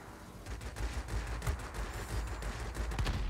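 Machine gun fire from a World War II-era aircraft in the World of Warplanes game, an IL-1: continuous rattling bursts of gunfire, steady and dense, with a few louder cracks and no talk.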